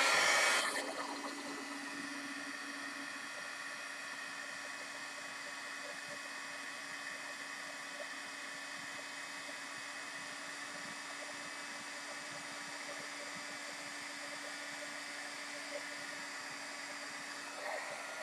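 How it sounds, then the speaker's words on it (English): A steady, loud blowing roar of hot air from a heat gun, running continuously after a brief louder start, with no talking. "I'm going to turn on the heat gun now."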